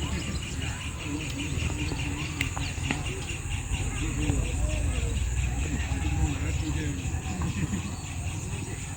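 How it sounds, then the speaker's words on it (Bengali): Many kinds of birds call at dusk near Gangdua Dam in Bankura, with scattered chirps and warbles over a steady insect hum and light breeze, moderately faint. "অনেক রকম পাখিরা ডাকছে।"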